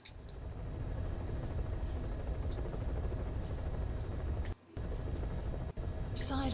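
A helicopter in Metal Gear Solid V: The Phantom Pain drones steadily with a thick, continuous rotor rumble, close and sustained, cut by a brief dropout, with faint game sounds near the end.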